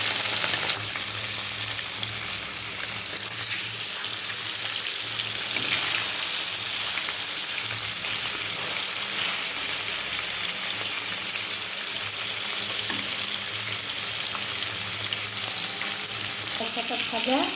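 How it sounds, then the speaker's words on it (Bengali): Fish sizzles and crackles in hot oil in a pan, a steady dense frying hiss that stays loud and unbroken throughout. "এই দেখো তেলটা গরম হয়ে গেছে, মাছটা দিয়ে দেখি"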